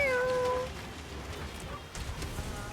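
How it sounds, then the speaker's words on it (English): A house cat named Gino meows once, a short, clear, drawn-out cry at close range over a steady rain-like background hiss, followed by faint ambient noise. "he's been meowing at me all night"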